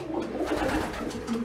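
Pigeon chicks make soft, low cooing and peeping sounds up close in a quiet space, with short repeated calls over a faint background hum.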